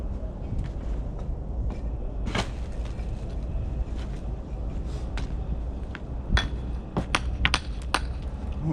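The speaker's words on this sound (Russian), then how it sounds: "Сейчас я молоточком подправлю." A small hammer taps a brick into place during a homemade fireplace build, giving a few sharp, sparse knocks and then a quicker cluster of taps toward the end over a low background hum.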